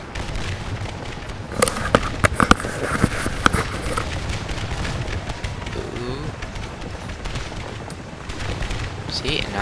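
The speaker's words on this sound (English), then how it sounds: "now these guys are firing at him" Massed musket volleys crackle through a Scourge of War battle, with dense irregular bursts of rifle fire and sharper distant reports rolling on continuously under a bed of battlefield noise.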